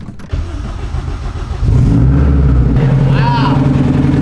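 A tuned Honda race car engine cranks and fires up, settling into a loud, steady close idle with a deep rumble, while people talk over it.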